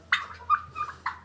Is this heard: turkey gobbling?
yes